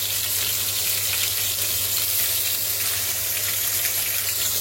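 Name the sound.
rabbit pieces frying in a deep pan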